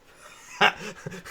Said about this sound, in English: Got dogs barking?